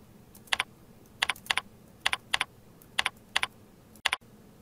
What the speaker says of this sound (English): type your announcement in the Content field